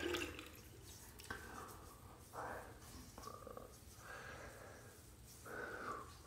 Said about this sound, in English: My Shash Allen block, I'm gonna run it under some cold water here